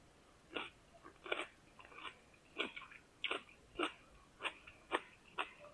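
Someone chews a mouthful of fried cabbage and sausage, with about nine crisp, close bites and crunches spaced at a steady rhythm, quiet and with no talking.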